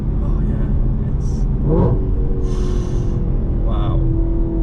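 A naturally aspirated V8 in an Audi RS4 Avant wagon pulls steadily under acceleration below 5,000 rpm, a loud, constant low engine drone heard from the cabin with road rumble and faint whooshes.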